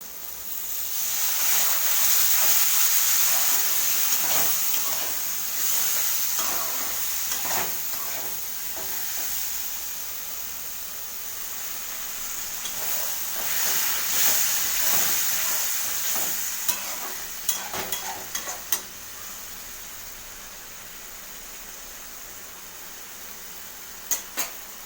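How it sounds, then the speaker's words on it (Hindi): Whole spices with chilli, cumin and coriander powders sizzle loudly while being stirred and roasted in a pan over a high flame, a steady hiss with occasional scraping clicks of a spoon against the pan near the end. "इसको डाल के आपको अच्छी तरीके से फिर से उस मसाले को भूनना पड़ेगा और ये मसाला भुनेगा हाई फ्लेम पे"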